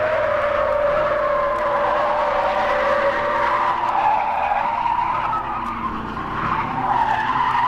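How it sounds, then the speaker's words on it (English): Holden Kingswood braking hard into a tight corner at about 50 mph on a closed track, tires squealing in a long continuous skid with engine noise underneath, loud and close throughout. "Listen to the Kingswood brake to take it at an incredible 50 miles an hour."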